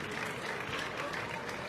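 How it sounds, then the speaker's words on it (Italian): Audience applause at a basketball team presentation in Mestre, a steady dense clapping from a crowd that fills the whole short moment. "Allora facciamo un grande applauso al nostro main sponsor e al Presidente."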